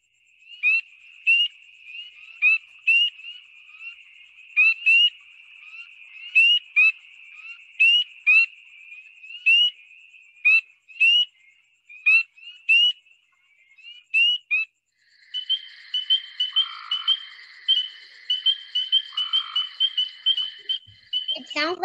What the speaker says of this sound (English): the reason why they're called peepers is because their noise sounds like a peep